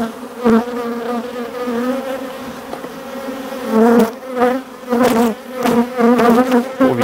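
Honeybees shaken off a frame in front of a beehive buzz loudly and close, the dense hum swelling in bursts as the bees are knocked off, with no talk over it.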